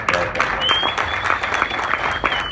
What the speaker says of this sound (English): Let's give a really round of applause